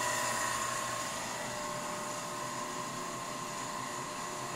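A Leybold Turbovac 150 turbomolecular vacuum pump spins up, giving a steady, dense whine with sustained high tones that stays loud and constant throughout, with no talking.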